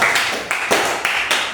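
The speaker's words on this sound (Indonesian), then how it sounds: "Kita beri tepuk tangan kepada kelompok" A class gives a student group a short burst of hand claps, about five sharp, fairly close claps in an uneven rhythm.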